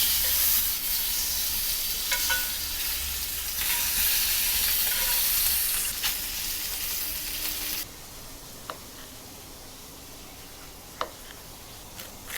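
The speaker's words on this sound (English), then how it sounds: "You want to render that fat of the lamb chop first." Lamb chop fat renders in a hot skillet with a steady, close sizzle and hiss for most of the stretch, then the frying quiets to a softer crackle with a few sharp ticks, and no one talks.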